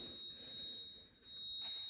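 A steady high-pitched warning beep from a 2006 second-generation Toyota Prius, heard during brake actuator work. It holds as one continuous faint tone over low background hum, with no talking.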